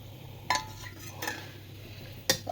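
Tomato, tamarind and ground cumin, fenugreek and mustard powder go into a metal vessel. Three distinct clinks and scrapes of a spoon against it break a quiet background.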